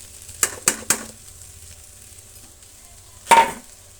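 Bread pieces stirred into fried ingredients in a pan for bread upma, a few quick scraping strokes at the start and another burst near the end over a faint sizzle.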